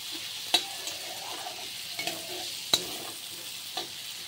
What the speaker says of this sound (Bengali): তো এই মাছটা রান্না করছি আমি, চেলা মাছ।